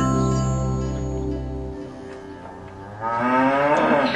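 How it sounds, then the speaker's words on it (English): A cow moos in a long, low, steady call for nearly two seconds, followed by a second rising, strained moo near the end, loud and close with no talk. "I'm not sure yet if I'm a big fan of the cow moo at the end"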